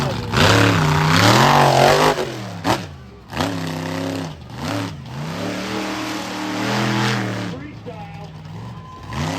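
A monster truck engine roars and revs in repeated surging bursts during a freestyle run at an arena show, loud and close, with an announcer talking over it.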